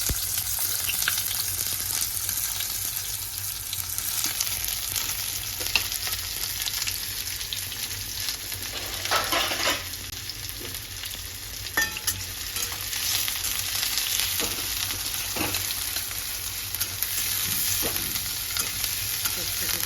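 Onions fry and sizzle steadily in a pan for bitter gourd chutney, a continuous close crackle with occasional louder stirring scrapes and bursts, no voices.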